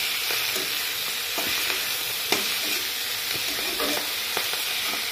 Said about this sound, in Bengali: জলের পর দিয়ে একটু নাড়া দিয়ে দিই